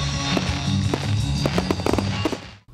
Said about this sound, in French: Des festivités qui se sont achevées sur des sons des années 70 avec le traditionnel feu d'artifice